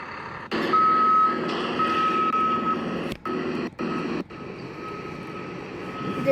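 Vehicle moving a Starship barrel stand, emitting repeated steady reversing beeps over a loud engine drone, with several brief cutouts near the end before the rumble continues.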